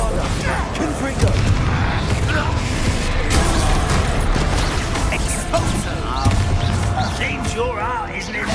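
Explosions from the Confringo fire spell in the Hogwarts Legacy video game, dull booms and bursts inside a continuous wash of spell-combat noise, with voices speaking over the fighting.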